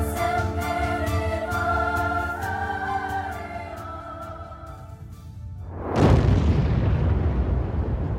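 A squib goes off in the sky lobby of a tall tower: after sustained tonal music, a single powerful, broad blast bursts in and rumbles on as it slowly fades.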